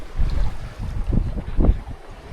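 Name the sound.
sailboat sailing with engine off, wind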